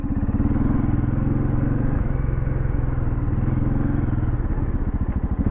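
A dual sport motorcycle rides along a path through a backyard, its engine putting out a close, steady putter with some rattling clatter.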